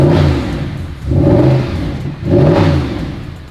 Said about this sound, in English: Let's listen to the stock exhaust.